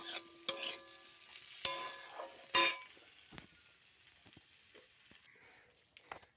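Taro and potato curry being stirred in a pan with turmeric and salt, with a few sharp scrapes and clinks of a spoon against the pan over a faint sizzle, followed by quieter soft stirring noises.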